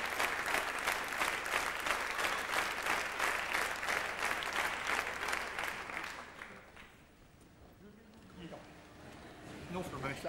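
A theatre audience at the 1999 Molières awards applauds Robert Hirsch with rhythmic, sustained clapping for about six seconds before it fades into a quieter hall with faint room sounds.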